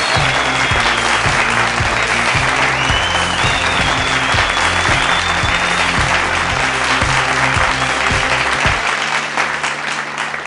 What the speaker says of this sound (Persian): خیلی محکم تشویقشان کنید